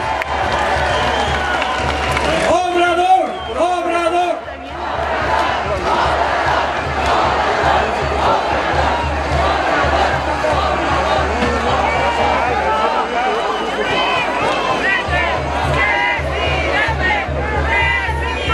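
Large crowd at an outdoor political rally for a politician in Iztacalco, Mexico City, cheering, shouting and clapping in a loud, continuous roar, with amplified voices and chanting mixed in throughout.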